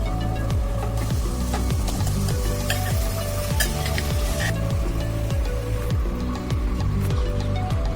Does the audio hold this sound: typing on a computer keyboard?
no